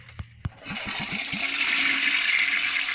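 Two sharp clicks of a handle come first, then a toilet in the horror video game The Baby in Yellow flushes with a loud rushing gurgle of water that settles into a steady hiss of the refill.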